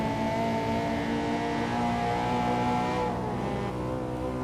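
A Honda Integra Type R DC2 accelerates hard on a back road, its engine a loud, continuous high-revving drone heard from close by, with no speech.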